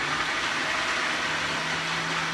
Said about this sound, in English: And we are going to blend.